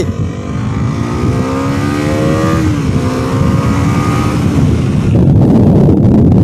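A Bajaj Pulsar NS400 motorcycle on a test ride, its engine droning and climbing through the revs with a shift partway through, heavy wind rush over the microphone and louder acceleration at the end.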